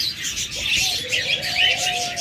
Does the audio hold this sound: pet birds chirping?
yes